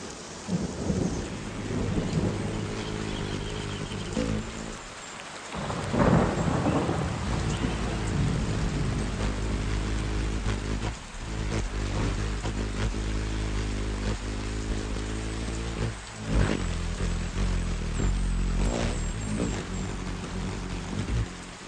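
Steady heavy rain falls on a garden while thunder rolls and booms close by, several times across the clip, the downpour continuing between the claps.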